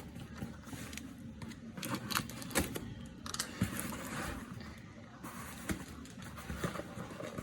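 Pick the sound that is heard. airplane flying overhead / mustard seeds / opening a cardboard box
opening a cardboard box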